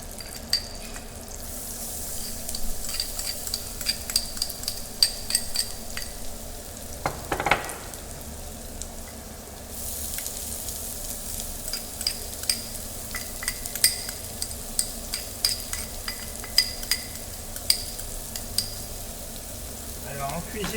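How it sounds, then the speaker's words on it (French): Chopped shallots and garlic sweat in olive oil in a frying pan, a soft continuous sizzle under repeated scraping and clicking from a spatula stirring them around, with one louder clatter midway. "Donc tu mélanges tranquillement dans la poêle"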